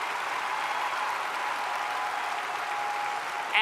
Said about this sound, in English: Parents, give these kids a round of applause